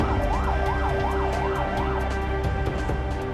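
An ambulance siren wails in repeating rising and falling sweeps over steady traffic rumble, loud and continuous, with no voices.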